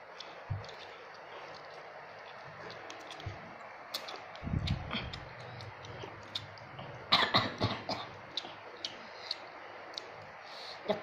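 Someone eating spicy green chili noodles coughs and clears their throat in short bursts, with scattered clicks and small eating noises between, close and moderately quiet.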